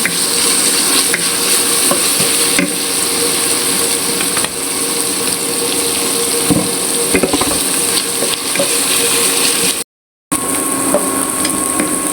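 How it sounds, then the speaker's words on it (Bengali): Ash gourd fries with shrimp in oil, giving a loud, steady close sizzle with intermittent stirring clatter and one brief dropout near the end. "চাল কুমড়া ভাজবো, চাল কুমড়ার সাথে চিংড়ি মাছ দেব।"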